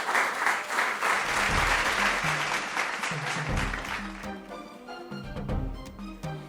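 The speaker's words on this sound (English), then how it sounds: "Round of applause for them." Enthusiastic crowd applause at a school quiz competition, steady at first, then thinning out as low musical tones come in beneath it.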